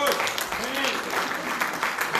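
A church congregation claps together in worship, a dense, steady patter of palms mixed with voices speaking over it.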